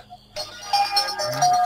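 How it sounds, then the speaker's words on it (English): A mobile phone ringtone suddenly starts up and keeps ringing, a loud bright melodic tone that goes on without a break. "Someone's phone is ringing."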